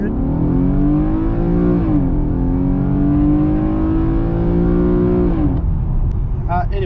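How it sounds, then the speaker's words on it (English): A Nissan Skyline 370GT with a 3.7L V6 accelerates from 0 to 100 in normal automatic mode, its engine droning loudly as it climbs, dropping at a gearshift and then rising again before easing off. "we'll just do a 0 to 100 now without actually, with all the traction on and just normal auto"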